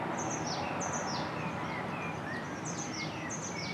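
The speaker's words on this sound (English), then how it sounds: "or birds in a park," Several birds chirp and tweet in short repeated calls in a park over a steady outdoor background hiss.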